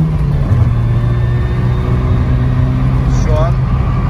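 A restored Renault 11 Flash drives along with a steady low engine drone and road rumble from inside the cabin, while people talk over it throughout.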